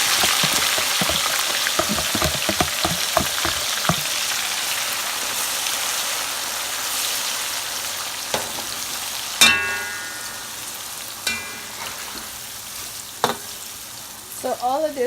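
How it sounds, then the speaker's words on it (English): Onions and fresh tomatoes fry in a pot with a loud, steady sizzle and crackle. Stirring knocks and scrapes come early on, then a few sharp clinks. "So all of this is gonna fry up"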